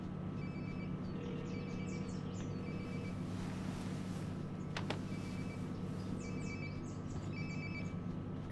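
A phone rings in the video game Life Is Strange: Before the Storm, with repeated electronic trilling bursts in a steady pattern over a quiet indoor hum, and a brief click midway.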